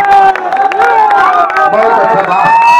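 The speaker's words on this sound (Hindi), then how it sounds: "एक बार जोरदार ताली बजा दीजिए" Large crowd at a Haryana versus Bihar dangal wrestling bout, loud dense cheering and hubbub with scattered clapping, while an announcer's amplified voice carries continuously over the noise.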